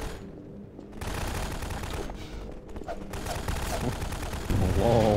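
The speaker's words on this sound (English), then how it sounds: "a wall is shooting at us" Sustained rapid gunfire from a video game battle in City 17, dense overlapping bursts and volleys that run loudly through the whole stretch, with a heavier burst near the end.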